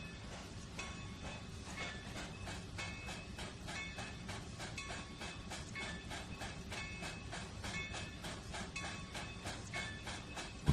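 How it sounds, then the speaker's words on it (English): Steam locomotive hauling a freight train on the C&O Hinton line in Trainz 2019 rolls into a service yard with a steady rhythmic clatter of wheels on rail joints, continuous and fairly close, with no one talking. "Our third train here is getting into the service yard."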